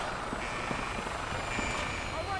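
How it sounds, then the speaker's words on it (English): A helicopter in the video game Fallout 4 drones steadily and loudly, its rotor wash forming a continuous rumbling wash throughout, with voices talking over it. "Where's that helicopter?"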